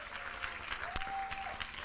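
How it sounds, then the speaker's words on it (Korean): Audience at a worship conference clapping in welcome, a brief, fairly faint patter of applause from a room with one sharper clap and a thin tone running underneath. "자리에서 일어나실 때 좀 환영의 박수를 주시기 바랍니다"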